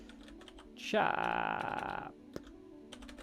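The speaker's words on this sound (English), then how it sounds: "I'm just typing in what the import is." Haskell code is typed on a computer keyboard, the keys clicking in short rapid bursts, loudest mid-clip, while someone talks over the tapping.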